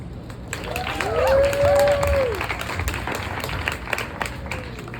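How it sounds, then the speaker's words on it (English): Applause for poet Chris at a poetry club reading in a Miami bookstore, a steady patter of clapping from a small seated audience, with a voice and a rising whistle-like tone heard over it early on. "Please give a round of applause for Chris."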